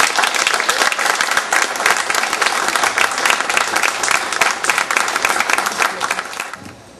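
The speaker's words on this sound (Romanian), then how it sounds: "Vă rog aplauze!" A loud, dense burst of audience applause at an evening cultural community gathering, sustained steadily for several seconds before tapering off at the end.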